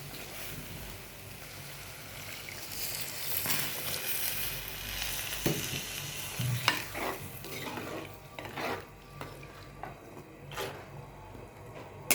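A pot of Kerala fish curry gravy bubbles and sizzles steadily at close range, with occasional stirring clatters and scrapes, and no talking.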